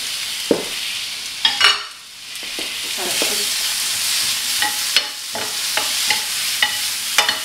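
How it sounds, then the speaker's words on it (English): Chopped onion and garlic dry frying in a pan, a constant hiss broken by repeated scrapes and clacks of stirring that come in irregular bursts. "In here I've got the chopped onion and garlic, and that can all be dry fried together."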